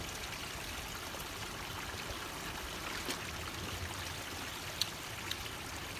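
Spring water trickles and splashes steadily along a coastline, a soft continuous wash with a couple of faint drips near the end and no voices.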